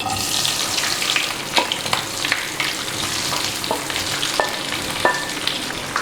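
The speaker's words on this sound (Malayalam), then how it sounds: "ഞാനിവിടെ ഒരു പാനിൽ കുറച്ച് വെളിച്ചെണ്ണ ഒഴിച്ച് ചൂടാക്കി എടുത്തിട്ടുണ്ട്. ഇനി നമുക്ക് ഇതിനകത്തോട്ട് ബീഫ് ഇട്ട് കൊടുക്കാം." Beef frying in hot coconut oil in a pan, a steady loud sizzle throughout with scattered sharp pops and crackles, and no voices.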